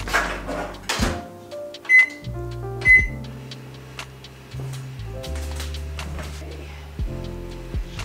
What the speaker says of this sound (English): Also at this point I am going to preheat the oven.